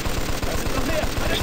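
A machine gun in Mafia 2 fires a rapid, even stream of shots that chips away at stone, with steady, loud bursts throughout.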